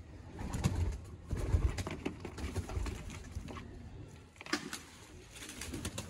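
Sialkoti pigeons, including a Dakoo pair, coo softly nearby in low repeated bursts, mixed with light pattering and a few wing flutters.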